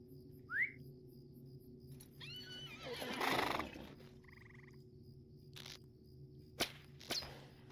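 A horse neighs in a horse-riding video game, with a short whinny near the start and a couple of brief later calls over a quiet looping ambience of croaking and chirping creatures.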